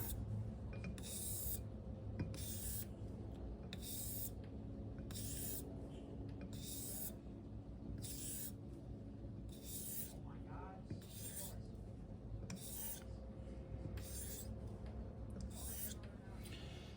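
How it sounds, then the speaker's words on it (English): A Thiers Issard straight razor is honed on a vintage Charnley Forest stone, giving a regular series of soft, close swishing strokes, about one per second, with a steady low hum beneath. "it really just does not take long to touch up a razor like this"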